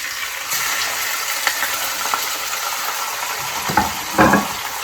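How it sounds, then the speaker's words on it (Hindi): Boneless chicken fries in oil with cumin seeds for a homemade chicken pulao, producing a continuous broad sizzle with occasional stirring splashes near the end, heard close and moderately loud. "हम इसको ऑयल में डाल के अच्छी तरीके से फ्राई करेंगे।"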